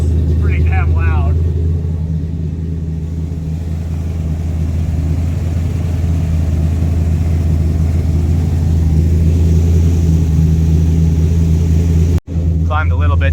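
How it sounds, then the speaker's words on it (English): A 1935 Chevy Master Deluxe engine runs steadily with a loud, rumbling exhaust, a deep continuous drone that holds throughout. A voice speaks briefly near the start and again at the end. "We definitely need some exhaust work because it's pretty damn loud."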